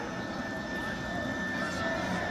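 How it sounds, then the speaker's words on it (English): A helicopter landing nearby at a boys' lacrosse game, heard as a steady, loud, broad engine roar with a constant whine, with faint voices in the background. "Helicopter just landed in the middle of Ridley."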